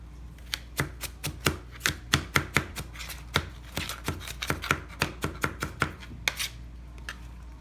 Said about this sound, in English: Gotta chop. Well, nobody wanna chop up no onions, so you know you gotta chop your onions.